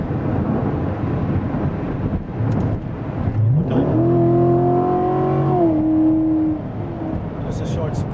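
A 2016 Corvette Z51 3LT accelerates in a short spurt heard from inside the car, the engine note swelling and climbing over a few seconds above wind and road rumble before easing off.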